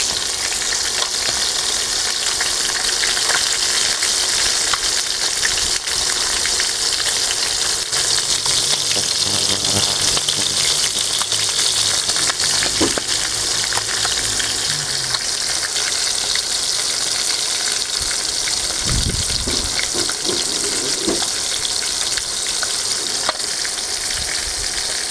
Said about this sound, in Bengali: তারপরে তেলের মধ্যে ছেড়ে দেবো, তো এগুলো ভালো করে ভাজা যাবে